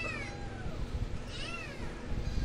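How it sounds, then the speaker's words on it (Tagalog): Kittens meow several times in thin, rising cries over a low background rumble, fairly close and unaccompanied by talk. "Pati yung mga kuting."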